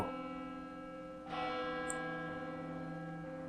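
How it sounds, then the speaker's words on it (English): The watchtower bell rings with a sustained, resonant metallic tone, a fresh strike swelling the sound partway through before it hangs and slowly decays, heard alone and fairly clear. "A bell began to ring. The watchtower bell."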